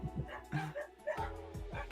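Several dogs bark in the background, a run of short, sharp barks and yips coming in quick bursts through two seconds, moderately loud and slightly distant indoors.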